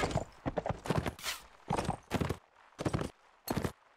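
A horse gallops in the Mount & Blade Warband video game, its hoofbeats coming as loud, close bursts of clip-clop in an uneven rhythm broken by short pauses.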